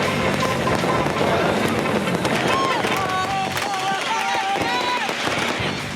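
Fireworks and firecrackers popping in a crowded square in Libya during celebrations, rapid irregular bursts over a dense crowd din with voices and whistling tones.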